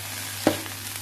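Rice frying in a pan with green onion, chicken and pickled vegetables gives a steady soft sizzle, with one brief stirring scrape standing out, quiet and close.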